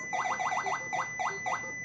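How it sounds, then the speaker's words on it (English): A laundry machine signals the end of its cycle with a rapid run of chirping electronic beeps in quick groups, close and clear over a quiet room. "That beep means my laundry is ready"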